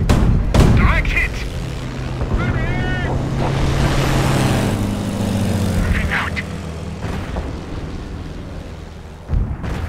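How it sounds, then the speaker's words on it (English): Enemy infantry gunfire in Company of Heroes during a battle, loud sharp shots near the start and end, set against dense rumbling battle noise and engine drone, with a voice briefly heard. "Taking fire from enemy infantry!"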